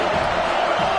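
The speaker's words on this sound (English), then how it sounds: "This crowd ready to make its presence known." A packed football stadium crowd roars in a continuous, wide wash of cheering noise, steady and loud throughout with no distinct individual voices.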